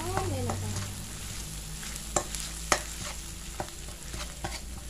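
Chillies stir-fry in hot oil in a pan for northern Thai nam prik ong. A steady close sizzle carries on throughout, with a few sharp scraping stirs of the utensil in the pan.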